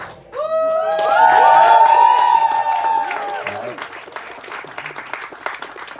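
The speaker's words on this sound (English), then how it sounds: "Let's give a round of applause for the drum team." Festival audience at an outdoor event applauding and cheering for a drum team: a loud burst of clapping and whoops rises quickly, holds, then thins out, with voices shouting over it.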